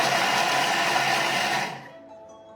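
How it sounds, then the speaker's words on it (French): A food processor chops onions at speed 5 for a few seconds, its steady loud motor whir blending with the chopping of the pieces, then spinning down and fading as it stops. "il va tout simplement nous mixer nos petits oignons hop, en morceaux"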